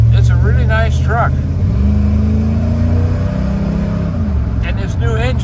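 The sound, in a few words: 1940 Ford street rod pickup driving down the freeway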